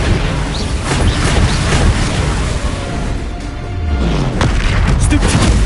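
The Flipendo spell is cast in Hogwarts Legacy amid dense combat, with heavy booms and crashing impacts over a loud, continuous game soundscape.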